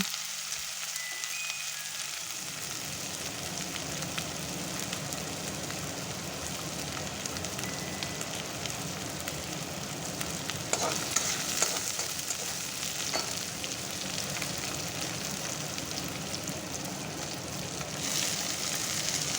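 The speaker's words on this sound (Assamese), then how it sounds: "পিঁয়াজখিনি কিছু সময় ভালদৰে ভাজি ল'ব" Chopped onions crackle and hiss as they fry in a pan for a drumstick leaf recipe, a continuous close sizzle that swells after a quieter start, with occasional stirring scrapes and no talking.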